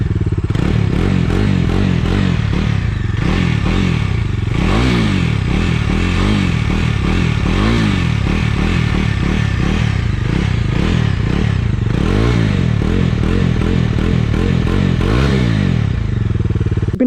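A Bajaj Dominar 250 motorcycle idles and revs nearby, a loud continuous engine and exhaust drone rising and falling in repeated throttle blips over about seventeen seconds, with no voices.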